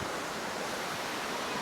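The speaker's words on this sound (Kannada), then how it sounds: "ಇಲ್ಲಿ ಎಷ್ಟು ನೀರು ಬೀಳತ್ತಿದೆ ಹೆಚ್ಚಂತ" Elephant Falls in Meghalaya pours with a steady, full rushing roar of falling water, an even wash of noise heard close and unbroken throughout.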